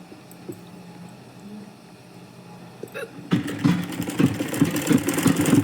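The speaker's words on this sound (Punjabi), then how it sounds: "ਆਪਾਂ ਸਿੰਪਲ ਲੈਸ ਰੱਖ ਕੇ ਉੱਪਰ ਸਿਲਾਈ ਲਾ ਦੇਣੀ ਹੈ" A sewing machine stitches simple lace onto fabric, its motor starting up partway through and running in a steady, fairly loud mechanical whir with rhythmic knocking of the needle, after a quieter stretch of faint handling noise.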